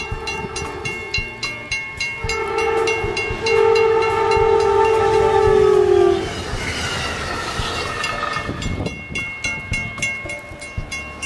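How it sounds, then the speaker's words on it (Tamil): A train runs along a railway track covered in snow, its loud horn blaring in sustained tones over a steady rhythmic rail clatter before the horn fades and the wheels keep rolling. "இங்க ரயில்வே ட்ராக் ஃபுல்லா பனியால மூடிடுச்சு. இதுல எப்படி ட்ரெயின் வர முடியும்னு நினைக்கும் போது"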